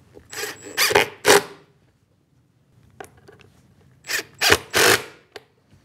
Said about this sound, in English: Now I'll secure those runners here at the back with some screws.